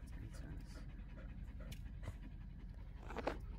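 Dogs panting steadily and close inside a car on a road trip, a continuous rapid breathy rhythm under low engine and road rumble, with a few faint voices in the background.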